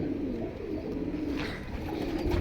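Pigeons cooing in a loft where birds are kept for sale, soft low repeated coos running steadily throughout at close range with no talk.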